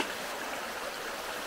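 A stream flowing on Exmoor at night, a dense steady rush of water that holds even from start to finish, close and fairly loud with no voices.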